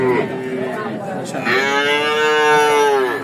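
A cow moos loudly and close by at a rainy-day cattle market, a long low call with a rising tone, following a shorter lowing sound.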